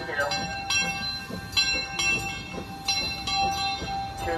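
Cedar Point amusement park train ride on the C.P. & L.E. Railroad at night, with steady rolling rail noise and repeated bright bell-like tones ringing out at intervals throughout.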